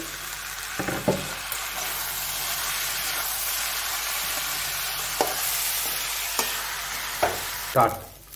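Broken wheat (dalia) frying and being stirred in a pan, giving a steady close sizzle with occasional scraping knocks from the stirring, and no voices.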